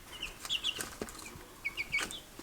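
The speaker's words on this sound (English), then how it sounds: "I already got distracted playing with chickens" Chickens clucking in short, chirpy bursts at moderate distance inside a home, with a few soft knocks and no talking.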